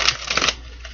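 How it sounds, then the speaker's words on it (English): Tarot cards are shuffled by hand in a quick, soft riffling burst that fades after about half a second, close and fairly quiet. "Two more shuffles."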